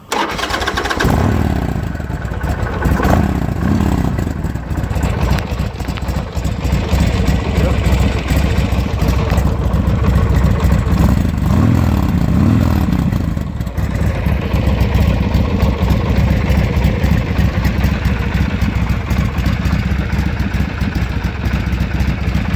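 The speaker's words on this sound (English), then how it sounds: "Power on, give it a little bit of gas, see if it cranks over." A Harley-Davidson Sportster motorcycle engine cranks, fires up and settles into a loud, rumbling run, with a few throttle blips rising and falling over a steady, close idle.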